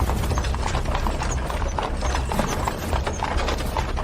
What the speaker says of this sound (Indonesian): Tuh, kereta kuda siapa ini?